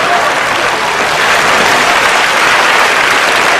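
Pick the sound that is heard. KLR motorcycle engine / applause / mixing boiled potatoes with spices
applause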